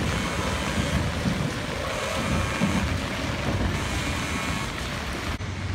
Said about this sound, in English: It is a wet and rainy day today.